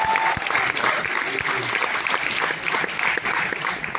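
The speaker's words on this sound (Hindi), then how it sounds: "जोरदार तालियां" An audience at a Bollywood film trailer launch gives a guest loud, sustained applause. The clapping is dense and continuous throughout, with a voice briefly audible over it.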